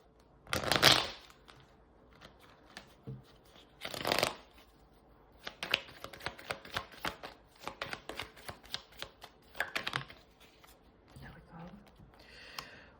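Tarot cards are shuffled in several bursts of riffling and flicking, with loud swishes at the start and a run of rapid crisp card snaps in the middle, close and clear.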